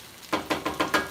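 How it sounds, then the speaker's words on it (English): A spatula scrapes cooked pilau rice in a stew pot, five short close scrapes in an even rhythm with no voices. "I'm just gonna scrape that with my spatula"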